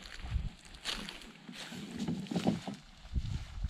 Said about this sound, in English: We are on a buffalo canoe.